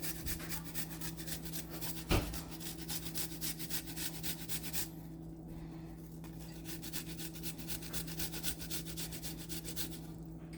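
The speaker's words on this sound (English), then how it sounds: "I'm gonna take 1 clove of garlic, and I'm just gonna grate it." One garlic clove is rubbed against a small kitchen grater in steady, rapid scraping strokes, soft and close, continuing evenly with a brief pause midway.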